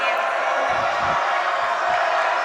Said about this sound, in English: Crowd going crazy, trying to distract.